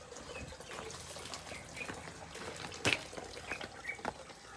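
Water trickles and splashes steadily while tulsi plants are watered outdoors, a soft continuous running flow with a few brighter drips and splashes, fairly faint and with no voices.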